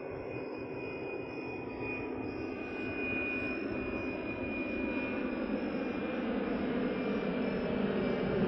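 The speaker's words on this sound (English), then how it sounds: "There goes another plane." An airplane passes overhead, a steady broadband engine roar that swells slightly louder over several seconds, continuous and alone with no talking.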